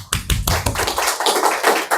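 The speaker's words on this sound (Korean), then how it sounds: "우리 영광의 박수 하나님께 올려드리겠습니다." Church congregation clapping together in praise during a Korean worship service, a dense, steady patter of many hands, fairly loud and continuous, with no talk over it.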